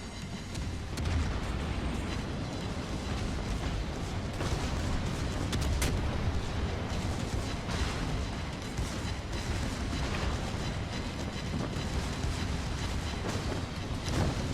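Secondary guns on German battleships Bismarck and Grosser Kurfurst fire in World of Warships Legends, a dense, continuous barrage of overlapping booms and cracks rolling on without pause at steady loud level.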